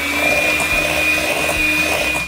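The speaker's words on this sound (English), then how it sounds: "You can use a stand mixer or a hand beater like this." An electric hand mixer beats butter and white granulated sugar in a bowl, a steady close whine with a constant high tone and a low motor hum, running without a break and with no talk.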